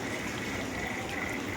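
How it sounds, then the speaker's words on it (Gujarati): Rainwater flooding around a house, a steady broad rush of flowing water that holds even and close for the whole moment with no voices. "વરસાદ તો શરૂ છો પણ આમ જો તો ખરા પાણી એટલું આવી ગયું"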